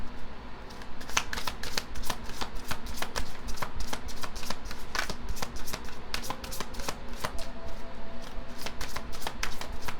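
Tarot cards are shuffled by hand in quick, repeated riffles and flicks that crackle in steady bursts. It is close and fairly quiet, with no voice over it.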